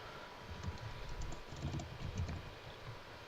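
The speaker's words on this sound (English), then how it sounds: "I hear typing." Soft keyboard typing, scattered and fairly faint, with irregular clusters of keystrokes under a low background rumble.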